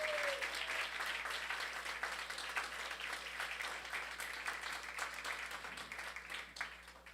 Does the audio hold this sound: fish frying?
no